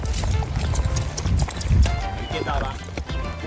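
Horse hooves clip-clop steadily while riding uphill on a rural trail near Trinidad, Cuba, close and continuous under wind noise and a nearby voice.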